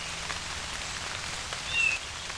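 Steady rain falling in a strip of woods between fields, a soft continuous patter of drops with no voices, holding at an even moderate level throughout.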